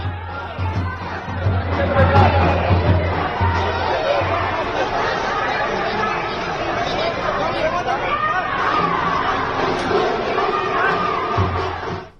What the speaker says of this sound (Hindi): प्रयागराज में राहुल गांधी की यात्रा में भारी भीड़ देखने को मिली